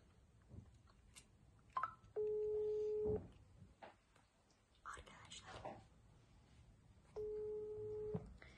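Telephone dialing and ringback tones from a phone call, two sustained electronic tones about a second long separated by a gap, with faint whispering and rustling around them.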